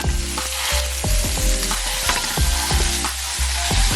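Ground hamburger meat for tacos frying loudly in a pan, a dense close crackling sizzle with repeated scraping and tapping strokes of a spatula over a low hum, with no talking.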